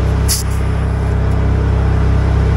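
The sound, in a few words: generator running then idling down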